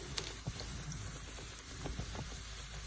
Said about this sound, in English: Give it a little bit more time, and then I'll flip it over and let it continue frying.